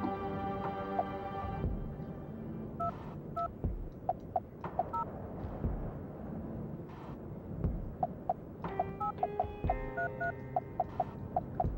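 Phone keypad tones being dialed in the video game Silent Hill Shattered Memories: a series of short, distinct beeps in irregular bursts over a low ambient hum, clear and close.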